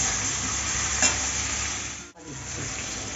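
Chilli and ginger frying in a pan for a Bengali fish curry, a loud continuous sizzle close by with stirring scrapes, briefly dipping near the end.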